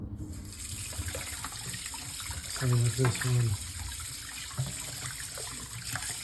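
Tap water runs in a steady hiss as coffee maker parts are rinsed at a sink, continuing throughout with a voice speaking briefly over it near the middle.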